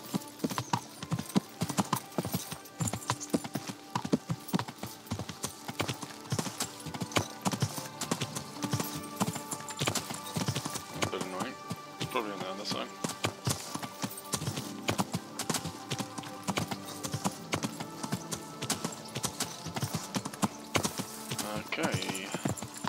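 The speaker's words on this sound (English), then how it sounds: "horses out there in the stable." Horse hooves clip-clop steadily in the medieval game Kingdom Come, an even trot of clear hoofbeats that continues throughout, with game sounds in the background.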